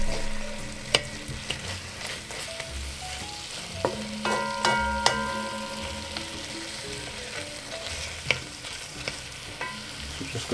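Onions and other aromatics fry in a pan with a steady sizzle, broken by sharp utensil clinks and scrapes at irregular intervals, close and moderately loud, with no talking.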